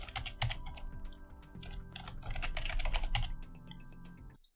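Rapid, uneven clicking of a computer keyboard while a hex color code is typed into CSS, close and steady with no talk.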